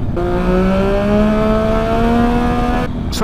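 A 2020 Triumph Speed Triple RS motorcycle engine holds a loud, smooth drone that climbs slowly in pitch as it pulls, heard up close before cutting off abruptly near the end.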